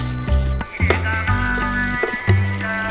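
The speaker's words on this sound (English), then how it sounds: "And now we'll add these strips. Just be gentle. We'll just give this a quick stir." Ragi mudde strips, coated in spices, are stirred and fried in a pan, giving a steady close sizzle with soft scraping stirs and a faint tonal hum underneath.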